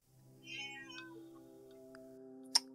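A black cat gives a faint, drawn-out meow indoors, quiet and close, followed by low background hum and a brief sharp click.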